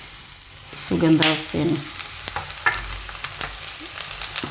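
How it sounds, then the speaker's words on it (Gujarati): Hot oil is poured over asafoetida and chili spices in a bowl for a Gujarati red chili and jaggery pickle, giving a brief loud sizzle that fades into faint crackling while someone speaks. "તો હવે આ તેલ આપણે નાખશું મસાલા ઉપર"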